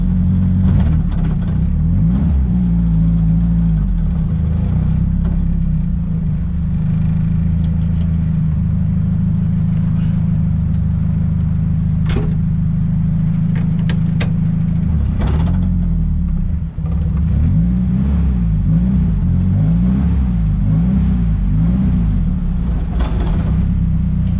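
Nissan S14 car engine pulling hard through the gears, a loud, continuous droning note that climbs in pitch, drops at each shift and climbs again, close and dominant for the full stretch with no talking.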